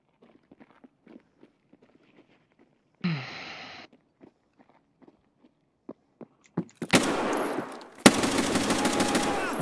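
Gunfire in the video game Escape from Tarkov: a brief burst near three seconds, then heavy, loud automatic fire filling the last few seconds, with scattered footstep-like clicks between.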